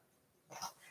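A dog hacking up a hairball indoors: after a near-silent start, a short, faint burst of throaty coughing and retching sounds rises abruptly and fades, heard alone.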